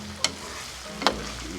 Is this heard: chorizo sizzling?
yes